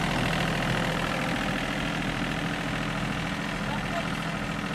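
A farm tractor's engine runs steadily as the clutch is released on a bok choy farm, a constant low rumbling drone with people talking over it.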